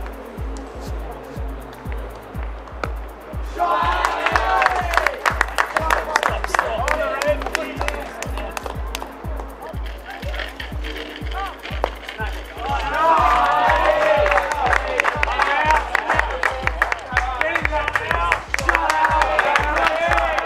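Crowd at a cricket final bursting into cheering and applause in two swells, each lasting several seconds, under a steady low rhythmic thumping background; a voice talks through the quieter stretches.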